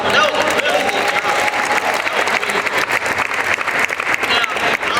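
Crowd applause from a mall audience at a community sports talk event with a police activity league, steady and fairly loud for five seconds, with some cheering and voices mixed in.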